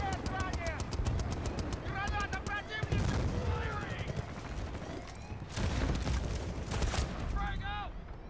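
Rapid bursts of automatic and single-shot gunfire in the PS3 shooter Bad Company 2, with dense, loud cracks and rattling volleys over several seconds, mixed with in-game voices and other battle noise.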